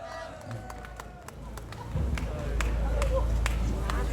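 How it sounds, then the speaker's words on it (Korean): A crowd claps at an outdoor patriotic rally in Korea. Scattered individual claps come first, then a loud, continuous patter of many hands builds up halfway through and holds steady, with a low rumble of crowd noise underneath. "예, 박수 보내주십시오."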